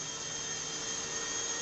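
A Syma S800G coaxial RC helicopter runs at full throttle, giving off a steady, fairly faint high-pitched whine of small motors and rotors with no voices.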